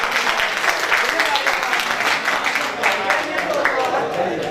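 Audience at a poetry mushaira clapping for a Punjabi poet, a loud, continuous burst of dense applause filling the whole stretch with no pauses.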